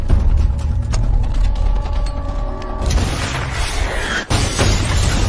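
A film explosion in a house during a crime drama, a loud rumbling boom with mechanical clatter, then a sudden burst of bright noise and a sharp crack near the end, with no speech.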